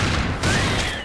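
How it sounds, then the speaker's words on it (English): Shotguns held one in each hand fire in an FPS video game, rapid loud blasts running together into a dense, continuous barrage over a short burst. "The combination of shotguns you can put in each hand now is so much fun"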